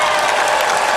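A large crowd at the Pittsburgh Penguins Stanley Cup victory parade claps and cheers in a dense, continuous wash of applause, loud and sustained throughout.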